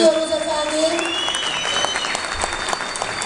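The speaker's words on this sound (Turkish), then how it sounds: "Bar ekibimizi güçlü alkışlarla yerine uğurluyoruz efendim" Steady applause from an audience at a village culture and entertainment program in Aşkale, Erzurum, sustained and fairly close, with voices faintly mixed in.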